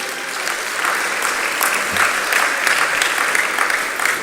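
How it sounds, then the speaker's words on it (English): A crowd at a Jamaican diaspora investment event gives a round of applause for the reappointed agriculture minister, a dense, fairly loud burst of many hands clapping that holds steady without talk. "A round of applause once more, please."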